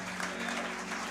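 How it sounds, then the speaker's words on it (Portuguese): A church congregation applauds for Jesus during a pastors' gathering, a short steady wash of clapping that stays even and moderately loud throughout, with a low sustained hum underneath. "pode aplaudir bem forte a Jesus"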